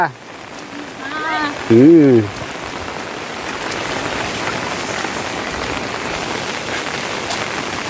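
Heavy monsoon rain pours down in Konkan, a dense, steady hiss that continues unbroken after a short voice near the start.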